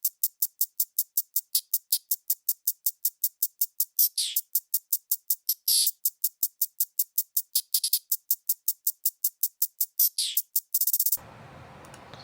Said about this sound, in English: I decided to go along with the hi-hats just to add some bounce to it